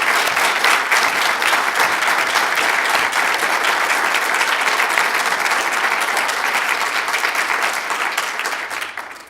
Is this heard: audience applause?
yes